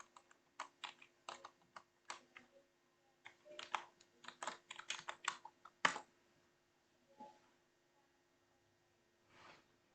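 A password is typed on a computer keyboard: quiet, close key clicks in uneven bursts, a dense flurry midway ending in a firmer keystroke, then a few isolated taps.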